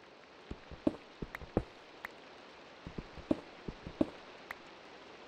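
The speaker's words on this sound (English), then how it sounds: "Oh, it's raining." Minecraft rain falling, heard as quiet scattered patter with sparse tapping drops over a soft hiss, faint and fairly even throughout.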